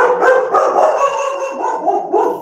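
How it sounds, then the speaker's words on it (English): A dog barks and yips in a rapid run of excited, close, loud barks that blend into a howling whine, heard alone without speech. "Sorry, that's my dog, Riley."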